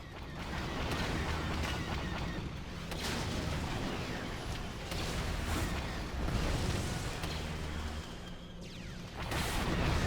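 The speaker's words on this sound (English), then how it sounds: "you can't really hear anything except for the infantry fire" Infantry gunfire rattles through a Star Wars Battlefront 2 battle on Hoth, dense bursts and heavy booms overlapping in a continuous rolling din of combat, fairly far off and steady, with no voices.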